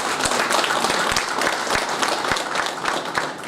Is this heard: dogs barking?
no